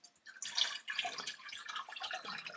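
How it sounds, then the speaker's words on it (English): Water pours from a measuring cup into a cooking pot of kitchari, a soft splashing and trickling that runs steadily for a couple of seconds without talk. "And then I'm going to add another 2 2/3 cups of water."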